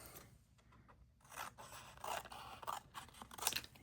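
Close, quiet scissors snip and scrape through paper beside an oil pastel drawing, making a series of short cuts that grow slightly louder toward the end.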